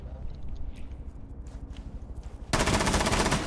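Video game gunfire during a tactical shooter match, a steady rattle of rapid shots through the first part, then a sudden loud, dense burst of sustained fire at the end.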